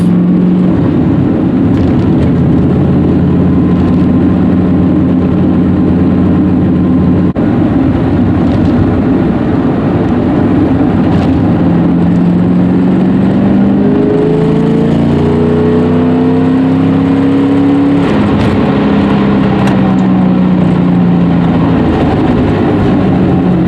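An LS-swapped Porsche 944 at part throttle in fourth gear gives a loud, continuous engine drone whose pitch rises and falls with the revs, heard close and without talk.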